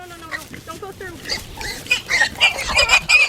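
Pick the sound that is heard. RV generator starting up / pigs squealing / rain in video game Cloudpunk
pigs squealing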